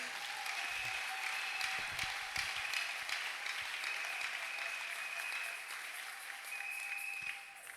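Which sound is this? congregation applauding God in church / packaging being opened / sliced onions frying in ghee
congregation applauding God in church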